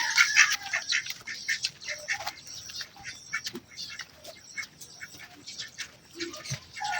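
Farmyard ducks calling with repeated squawks and quacks, moderately close, scattered in irregular bursts over about seven seconds with no talking.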